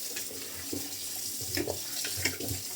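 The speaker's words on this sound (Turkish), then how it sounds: "soğuk su açalım" Cold tap water runs steadily into a kitchen sink while butter is made from cream, a close continuous splashing with small gurgles and clinks and no talking.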